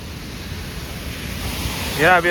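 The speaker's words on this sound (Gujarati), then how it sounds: "કેટલો વરસાદ આવે સુરતમાં" Heavy rain pours down in Surat, a dense, steady wash of noise, with a voice breaking in at the end.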